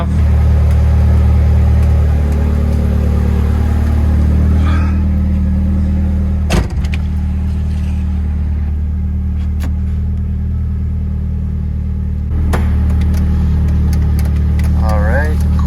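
A Nissan S13 idles close by after a cold-morning warm-up, a steady low engine rumble throughout with a brief clunk midway, and a person speaking over it.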